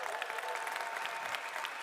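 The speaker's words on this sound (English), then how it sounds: "Give her a round of applause." A conference main-stage audience applauds with brief, steady, fairly distant clapping that continues evenly without pause.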